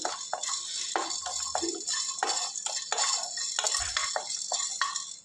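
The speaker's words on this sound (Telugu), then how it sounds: "ఇప్పుడు మనమైతే డ్రై రోస్ట్ చెక్క లవంగం కొద్దిగా జీడిపప్పు" Dry roasting cinnamon, cloves and cashews in a metal pan, with steady scraping and stirring clinks and a faint sizzle, close and continuous with no talking.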